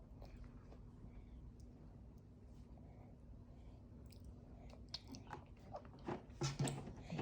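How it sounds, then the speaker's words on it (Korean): A seven-month-old baby eating beef porridge topped with tomato, faint soft chewing and wet squishy mouth sounds, growing louder near the end over quiet room noise. "음, 토마토도 이제 잘 먹어요."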